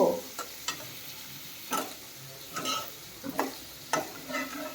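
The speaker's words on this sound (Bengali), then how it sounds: "আমার চিকেন কষানো হচ্ছে" Chicken browning with spices in a pan, heard as a low steady sizzle broken by several sharp scraping stirs and clatters at irregular intervals, close and moderately loud with no talking.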